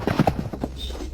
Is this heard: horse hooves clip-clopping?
yes